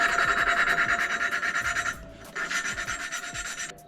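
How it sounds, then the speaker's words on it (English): Engine valves on a Coleman RSV being lapped with valve grinding compound, a steady close rasping rub in rhythmic back-and-forth strokes, pausing briefly before resuming. "Throw some valve grinding compound on here and lap these in."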